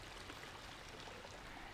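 A creek flows steadily at the end of a trail after a scramble down, producing a continuous broadband rush of water with no talk, close and even throughout.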